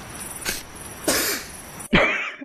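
A person coughs in three rough bursts, the last one loudest and followed by a raspy throat-clearing tail, close to the microphone with no talking.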